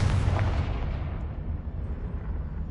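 A Confringo blasting spell explodes in Hogwarts Legacy: a single deep, rumbling boom that hits at once and fades slowly over a couple of seconds.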